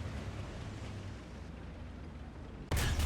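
An IS-2 No.321 tank cannon fires in War Thunder, a single sudden loud boom near the end after a steady low engine rumble, with no talk over it.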